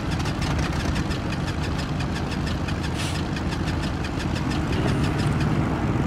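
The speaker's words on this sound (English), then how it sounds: "One good start on the left engine." The left piston engine of a simulated twin-engine aircraft in X-Plane 11 starts on the starter, its rapid ticking cranking settling into a loud, even rumbling idle that swells slightly near the end.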